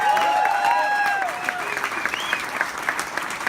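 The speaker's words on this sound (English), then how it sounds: "A round of applause for this man." A crowd at a music industry victory party breaks into applause, bright clapping and a few whoops rising over lingering tones at first, then settling into steady, close clapping.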